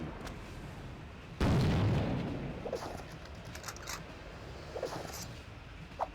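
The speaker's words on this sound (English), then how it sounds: "Oh, flashbang." A flashbang grenade goes off in a Sega Dreamcast shooter, a sudden loud burst and rumbling boom that decays over a couple of seconds, followed by quieter game sounds and scattered small pops.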